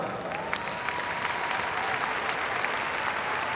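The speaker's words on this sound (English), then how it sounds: "So Ronnie Irving and Brenda Banbury move to the centre of the ring to the applause of the crowd." Crowd applauding at the Crufts 2006 dog show as the Best in Show judge walks to the centre of the ring, a dense, steady roar of many hands clapping throughout, close and loud.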